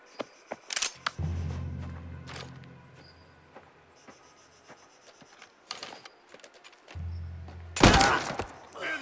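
Gunfire in the video game Mafia: The Old Country comes as scattered sharp shots, with a loud burst near the end. A low hum runs under the shots, and a steady chirping is heard in the background.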